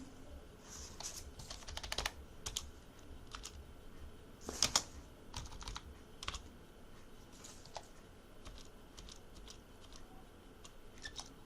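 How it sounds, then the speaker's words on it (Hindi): Fingers tap on a computer keyboard in irregular bursts of close, crisp keystrokes, with a few louder clacks and brief gaps between runs. "हमने अपना नरेशन टाइप कर दिया।"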